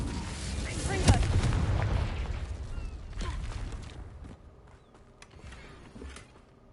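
A Confringo explosive spell is cast in the video game Hogwarts Legacy, producing a deep booming blast that swells and rumbles for a few seconds before fading, with some creaking debris afterward.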